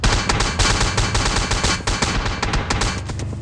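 An enemy player in PUBG fires a gun nonstop, loud rapid bursts of shots cracking in quick succession with brief gaps, ending in a short pause before more fire.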